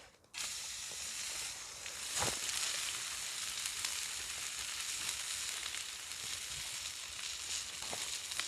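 A steak fries in olive oil in a pan at an overnight wild camp, giving a steady, close broadband sizzle and hiss throughout, with a few sharper pops and crackles breaking through.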